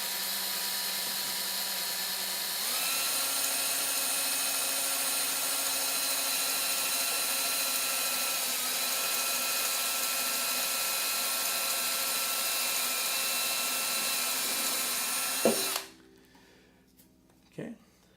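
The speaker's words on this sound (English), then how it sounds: "we're going to start drilling." A power drill bores into a ukulele body to seat a strap button, a steady high motor whine running for about fifteen seconds, then cutting off abruptly, followed by a short clunk of handling.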